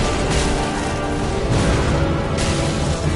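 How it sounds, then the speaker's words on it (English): An explosion caps a chain attack in Dark Souls III, heard as a loud, dense, sustained roar of blasts and crashes that surges several times. "And there's an explosion to finish that chain off."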